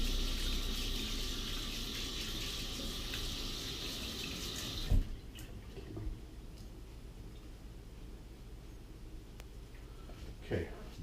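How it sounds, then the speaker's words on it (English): Tap water runs steadily over hands being rinsed of raw egg at a kitchen sink while cooking Schmarrn, a loud continuous gush lasting about five seconds before cutting off with a soft clunk, followed by quiet room sounds and a few faint knocks. "I'm going to rinse my hands really fast."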